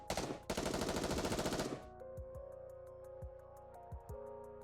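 Gunfire from the video game Nikke: rapid machine-gun bursts blast loudly for about two seconds, then a few scattered single shots ring out over a quieter electronic hum.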